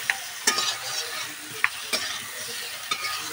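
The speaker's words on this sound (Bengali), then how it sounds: "এবার একটু লাল লাল করে ভেজে নেব" Boiled potato and green banana chunks with salt and turmeric fry in hot oil in a wok, a constant close sizzle under several sharp spatula scrapes and clacks spaced irregularly, with no talking.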